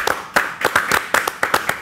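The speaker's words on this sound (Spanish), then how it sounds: "¡Aplauden afuera también!" A handful of people clapping outside, heard from a radio studio, with sharp, fairly close, uneven claps in a quick irregular rhythm for a couple of seconds.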